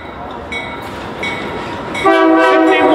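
A long double-stack freight train rolls past on the main tracks with its bell ringing, a steady rumble of rail cars building louder and nearer toward the end as bright ringing tones join in.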